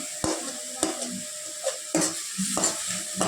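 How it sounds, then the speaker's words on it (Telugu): A spoon stirs tomato rasam with turmeric, coriander and curry leaves in a pot, giving several sharp scraping knocks against the metal over a soft bubbling sizzle, close up and with no voices. "ఇలా కలయి పెడుతూ ఉండాలి"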